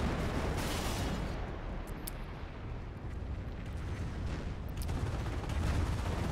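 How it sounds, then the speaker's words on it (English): Rocket assault barrage from the defensive doctrine hammering an on-map howitzer in the World War II strategy game Company of Heroes: a dense, continuous roar of explosions and gunfire rumbling on for several seconds at steady loudness. "The uh, rocket assault of the defensive doctrine used with devastating fashion against the on-map howitzer"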